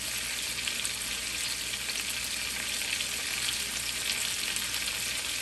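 A steak sizzles in a frying pan, a steady crackling hiss of searing fat that holds at an even level throughout with no talking.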